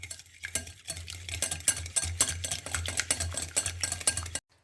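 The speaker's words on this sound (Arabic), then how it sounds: "من بعد ما ضفت البيضه درت واحد فاني، غادي نخلطها شويه" An egg is whisked in a bowl with a fork or whisk, making quick, rhythmic clicking and tapping strokes against the sides that repeat steadily and close before stopping abruptly.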